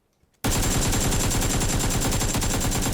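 Sustained automatic gunfire from PUBG, a battle royale shooter, bursts in abruptly after a near-silent start and continues as a loud, rapid, unbroken stream of close shots.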